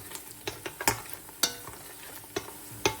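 Onion and garlic sautéing in a pan, with sharp scraping clicks and clinks from stirring standing out above a low, thin sizzle.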